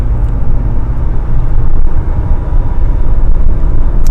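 A Mercedes-Benz W210 E200 Kompressor accelerates uphill, a loud, steady low engine and road rumble heard from inside the cabin without speech.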